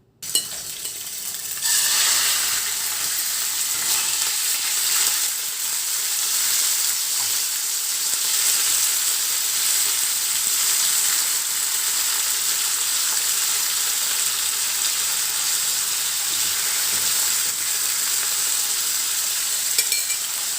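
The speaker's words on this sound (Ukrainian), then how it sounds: "Далі обсмажуємо м'ясо із звичайною олією." Meat frying in ordinary cooking oil for an Asian-style salad makes a steady, close sizzle that starts abruptly and keeps an even, crackling hiss throughout.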